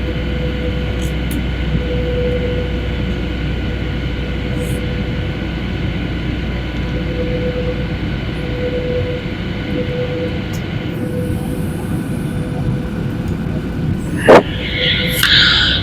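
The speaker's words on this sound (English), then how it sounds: "Now we are circling in the air." Steady airliner engine drone and cabin rumble on a flight from Nairobi to Lilongwe while circling before landing, a constant loud hum throughout with a brief click near the end.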